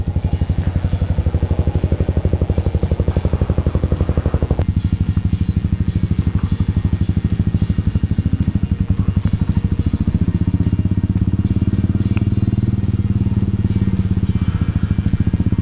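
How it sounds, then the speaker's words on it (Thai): A Yamaha SR400 single-cylinder motorcycle ridden on an open road, its engine thumping in a loud, close, rapid steady pulse throughout, with a shift in tone partway through and no talk. "ไม่ได้ขี่มาสี่ห้าวันแล้ว เอาไป วอมเครื่องนวดยาง สักหน่อยนะครับ"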